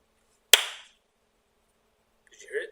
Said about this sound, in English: Go ahead and give me a clap.